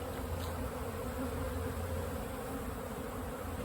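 Honey bees on a December cleansing flight outside the hive, a steady, close droning buzz of many wings, soft and continuous with no voices.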